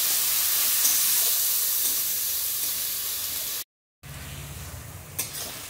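Chopped onion fries in oil left from frying fish, a steady loud sizzle that cuts out briefly, then returns softer with a low hum and a faint stir or clink; no talk.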